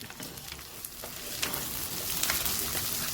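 Green chillies, garlic and ginger fry in a pan for a fish curry, giving a steady, moderately loud sizzle with occasional sharp crackles and stirring scrapes, close and without talk.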